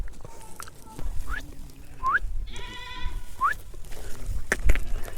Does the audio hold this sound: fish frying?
no